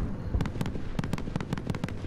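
Rapid bursts of gunfire from the Call of Duty: Modern Warfare video game, a run of about ten sharp, evenly spaced shots at moderate loudness with no talking over them.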